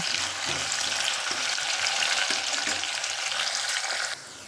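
Mint and curry leaves fry in hot oil for a bottle gourd and moong dal curry, giving a steady, close, even sizzle that drops slightly in level just before the end.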